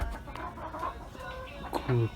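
Hens in a backyard coop give soft, scattered clucks and a louder squawk near the end, quiet and close, with a little talk around them.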